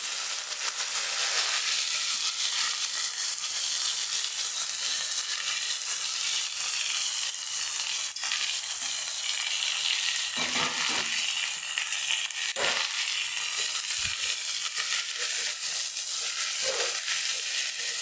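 Mint leaves fry in hot oil with garlic and curry leaves for a chutney, giving a continuous bright, hissing sizzle at close range with a few short stirring knocks and scrapes. Nobody talks.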